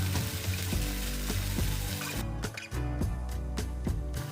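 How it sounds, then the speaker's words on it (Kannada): Rava dosa crisping in oil or ghee on a hot dosa pan, a steady close sizzle with crackling bursts throughout, loud and alone. "ಒಂದು ಲೋಟದಲ್ಲಿ ಈ ರೀತಿ ದೋಸೆ ಹಾಕಿ ಎಣ್ಣೆ ಅಥವಾ ತುಪ್ಪ ಸೇರಿಸಿ ಕ್ರಿಸ್ಪಿ ಆಗೋವರೆಗೂ ಚೆನ್ನಾಗಿ ಬೇಯಿಸಿ."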